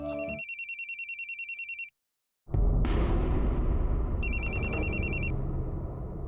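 An electronic telephone ringtone trills in a rapid pulsing burst, stops, then rings again over a loud, dense rumbling background.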